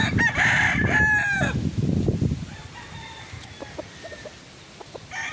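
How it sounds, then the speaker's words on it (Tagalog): A gamefowl broodstag, a Gen Arayata Black Doom, crows loudly and close at the start, a harmonic call stretching over about two seconds, followed by fainter clucks and scattered farmyard sounds. "Napakagwapong manok."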